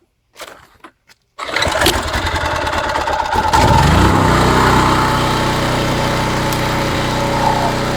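A portable generator with its choke on pulls through a couple of brief cranking attempts, then fires up and settles into a loud, steady close-up engine drone.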